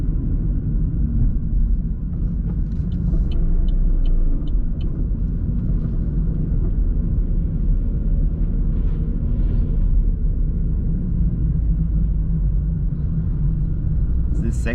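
Traffic jam on the A94 motorway heard from inside a car in heavy holiday traffic, a steady low rumble of engines and road noise with a few faint higher sounds over it.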